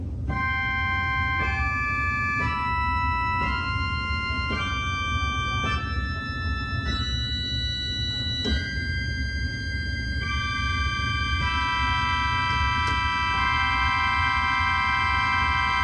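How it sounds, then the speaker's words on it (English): A pipe organ's grave mixture stop (12th and 15th ranks) plays a slow sequence of sustained bright, thin chords over a steady low hum of wind noise, with several notes sounding slightly out of tune. "Moving further, we have a grave mixture, which is made up of a 12th and a 15th."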